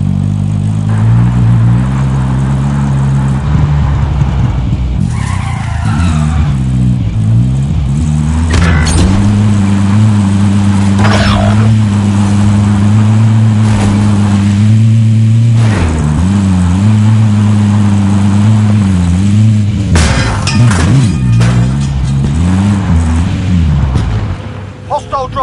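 A vehicle engine in a multiplayer shooter game hums steadily and loudly as a player drives, its pitch rising and falling with the throttle, while brief bangs and radio-style voices break in now and then.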